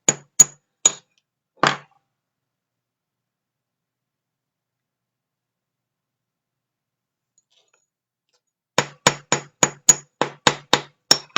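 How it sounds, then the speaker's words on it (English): A metal stamp is struck with a hammer against a fine silver ring in sharp, isolated taps, first four spaced blows, then a long silence, then a quicker run of about ten close, ringing strikes. "Whacking it with that stamp all the way around kind of pushes out the metal just a little bit"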